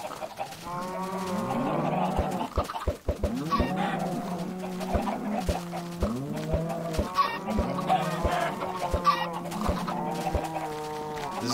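A crowd of Minecraft chickens clucks continuously near the player, overlapping calls in a steady rhythm, with periodic crisp clicking taps running under the flock's chatter.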